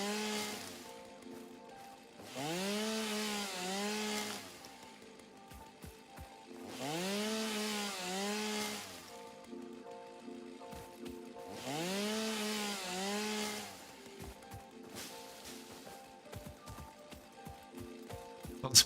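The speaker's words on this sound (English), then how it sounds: "Definitely got the sound of a chainsaw right." Three long chainsaw bursts in a factory-building video game, each revving up, holding a whining buzz, then dropping off, spaced a few seconds apart over a steady low background hum.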